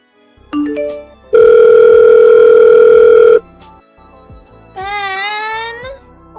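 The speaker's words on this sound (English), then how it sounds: "Why don't you pick up your phone?" A telephone sounds loudly and alone: a few rising beeps, then a long steady electronic tone lasting about two seconds, then a warbling ringtone after a short pause.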